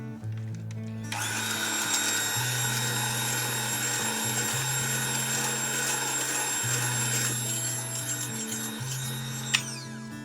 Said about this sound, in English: continue whipping the mixture